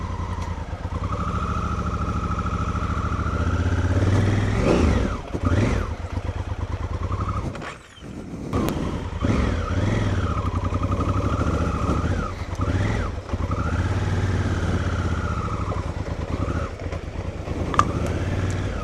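A motorcycle engine runs steadily through an icy ride across Salisbury Plain, its loud, close drone rising and falling with throttle changes and briefly dropping away before resuming under wind noise.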